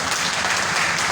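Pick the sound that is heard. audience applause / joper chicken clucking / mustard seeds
audience applause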